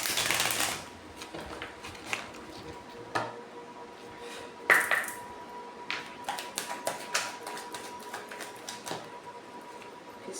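Oracle cards of a soul-contracts deck being handled and drawn, a series of soft, scattered taps and papery flicks in close, quiet surroundings, with a brief burst of shuffling at the start and no talk.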